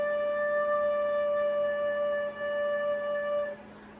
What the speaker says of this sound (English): Now low D, if you remember, is everything except for your pinky, and it sounds like this.